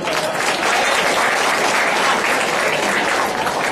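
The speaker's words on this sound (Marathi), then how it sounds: "शर्मा सरांसाठी टाळ्या वाजवल्यात तरी चालेल" An audience applauds a guest, Sharma sir, at a college event in Thane, with steady, dense clapping from a large crowd continuing throughout without a break.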